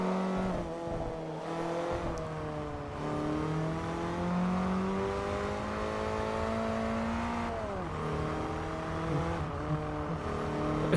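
In Forza Motorsport 3 on the Amalfi circuit, a car engine drones steadily while being driven in a drift, its pitch climbing and dipping, with a faint tire squeal under the engine noise.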